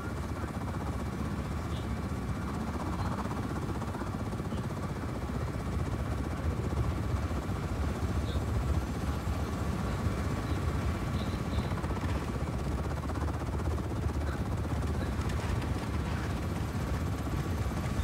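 Steady helicopter rotor and engine drone in the video game Just Cause 4, continuous and fairly even throughout, with no voices.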